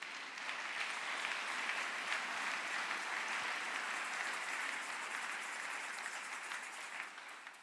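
A church congregation breaks into sustained, even applause, many hands clapping together in a dense wash that holds steady and slowly tapers, with no one speaking over it.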